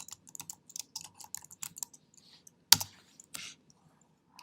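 Quick, uneven bursts of keystrokes on a computer keyboard, close and dry, ending in a sharper clack and a short final flurry, with no talking.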